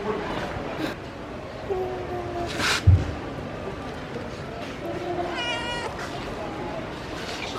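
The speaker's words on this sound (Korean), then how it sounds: "고양이다." A cat meows a few times amid outdoor beach ambience in Uluwatu, Bali, with people talking nearby and a brief loud bump partway through.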